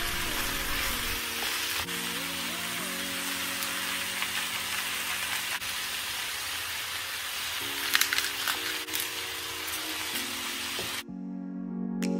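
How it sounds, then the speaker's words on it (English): Ground beef sizzles and fries steadily in a pan for cottage pie, a dense continuous crackle with occasional stirring scrapes, while a faint musical tone runs underneath throughout. "I'm gonna add in my ground beef and let it cook up until it's nice and brown"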